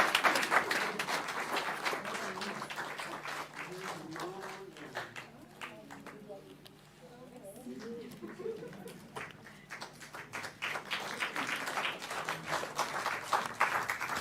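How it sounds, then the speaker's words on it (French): A congregation claps steadily during a church blessing for a couple's rose wedding anniversary, the applause sustained and fairly distant, easing slightly midway before picking up again, with voices mixed in. "On applaudit le Seigneur"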